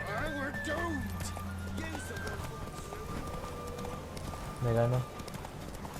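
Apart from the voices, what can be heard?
horse galloping in the video game The Witcher 3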